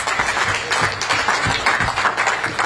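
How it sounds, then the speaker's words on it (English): An audience at a New York seminar gives steady applause for the panelists, a dense, even patter of many hands clapping throughout with no break. "Loud applause for the amazing panelists."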